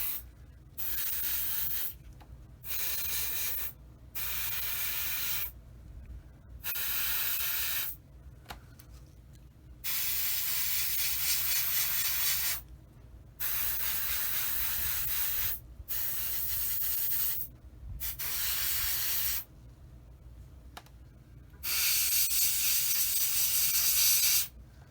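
Airbrush spraying camouflage paint onto a Tamiya 1/35 Sd.Kfz. 250/3 Greif scale model, a close hissing spray in repeated short bursts of a second or two, separated by brief pauses.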